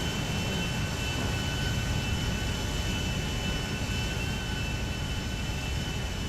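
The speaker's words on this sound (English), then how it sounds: "So this plane right here just landed and is taxiing towards the hangar." Airliner taxiing toward a hangar at LAX in a video game, a steady broadband jet engine roar with a faint high whine, continuous and moderately loud throughout, with no talk.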